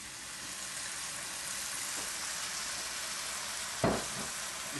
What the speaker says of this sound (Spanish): Ahora echamos un poco de vino seco italiano.